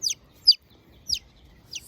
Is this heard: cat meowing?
no